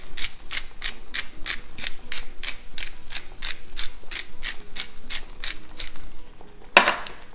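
A pepper mill cranks out fresh pepper for fish Veracruz in a quick run of about twenty evenly spaced, close ratcheting grinds, ending with a brief clatter.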